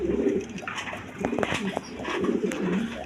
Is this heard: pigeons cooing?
yes